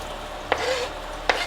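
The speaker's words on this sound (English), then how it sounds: "I'm gonna lower the heat here and add onions and garlic" Onions and garlic hit a hot pan for pumpkin soup, producing a soft steady sizzle with two sharp clatters from stirring against the pan, close and unaccompanied.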